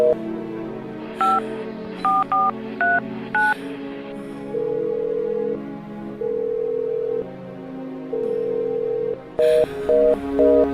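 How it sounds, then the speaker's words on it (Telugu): A telephone number is keyed in with a quick run of beeping tones, then a steady ringback tone repeats several times unanswered before a few more keypad beeps sound near the end. "ఫోన్ లిఫ్ట్ చేయట్లేదు సరోజ గారు."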